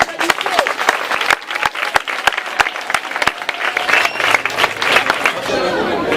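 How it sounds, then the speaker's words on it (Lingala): An audience applauds children with brisk, uneven clapping. Sharp individual claps stand out over a background of crowd murmur, and the sound stays lively for the whole stretch. "Applaudissez les enfants!"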